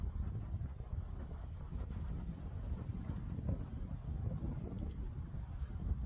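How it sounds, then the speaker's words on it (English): Gusty wind buffets an outdoor microphone at a fairly low level, a steady rumbling roar that keeps up for the whole stretch with no talking. "A little windy out here"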